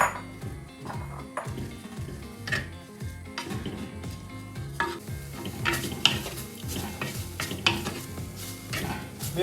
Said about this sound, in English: Our clay pot is hot now. We are going to add those onions